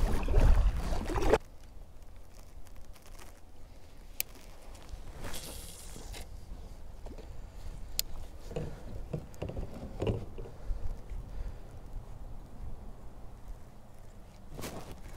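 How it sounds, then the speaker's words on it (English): A Jackson Kayak Big Tuna is paddled on open water during a fishing trip. Faint, steady paddle strokes and gentle water sounds follow a brief louder bump of handling at the start. "I'm just gonna get back to paddling"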